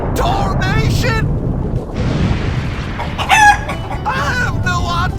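A chicken clucking and squawking in a video game, several loud, close bursts over a rumbling background, with someone speaking between calls.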